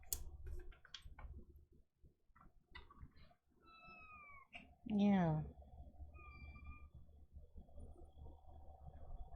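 Flip-Flop the cat lets out one loud, wavering, squeaky meow that sounds like air escaping from a balloon. It comes close by in the middle, surrounded by quieter chirps and a short spoken word.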